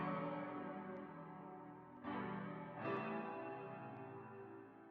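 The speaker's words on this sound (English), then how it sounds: "And with the effects, this is what it sounds like." Music sample processed with EQ, reverb, delay and flanger effects for a soulful beat, sustained harmonic tones with two swelling re-entries midway, washed and echoing, steady and fairly quiet with no talking.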